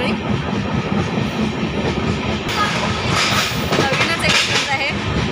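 A passenger train from Madgaon, Goa runs through tunnels near the Dudhsagar waterfall. Its heavy rumble and rattling carriages fill the whole stretch, growing louder and brighter in the second half.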